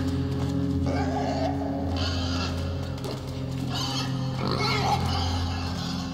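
Pig grunts and oinks from a video game, sounding over steady game music and ambience across the whole stretch, with a few brighter squeals near the end.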